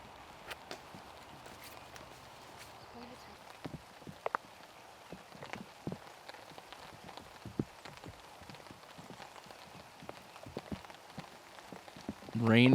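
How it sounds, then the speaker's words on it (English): Steady rain patters on a golf course during a round, with scattered heavier drops and taps across a soft continuous hiss, ending in a louder close rustle. "Rain has turned up another notch."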